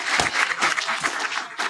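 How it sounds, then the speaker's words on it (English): A brief burst of audience applause at a scientific conference session after a presentation, with close, uneven clapping lasting under two seconds. "Let's give her another round of applause."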